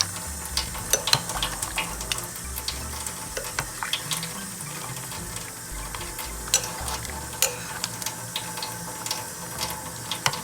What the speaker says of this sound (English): And then give that a good stir.